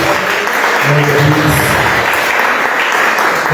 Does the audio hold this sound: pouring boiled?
no